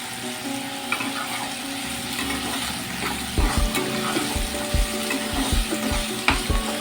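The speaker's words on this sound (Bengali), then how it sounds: "প্রথমে গাজরটা দিয়ে দিয়েছি, গাজরটা ভেজে নিচ্ছি।" Carrots and chopped vegetables sizzle steadily in hot oil for veg fried rice, with a spatula stirring and scraping the pan in repeated close knocks during the second half.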